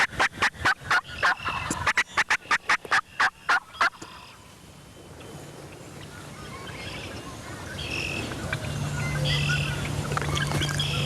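A wild turkey gobbles in a rapid run of about a dozen loud, close calls. Quieter ambient noise from the outdoor hunting setting follows.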